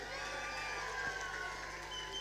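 A crowd at a Western Cape political event in Cape Town cheers and whoops for Dereleen James, a steady, dense wash of voices at moderate loudness with no break.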